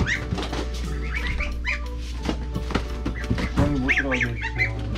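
Domestic goose in a car or cage area giving repeated short nasal honks and squawks, close and fairly loud, scattered among people talking and handling noises.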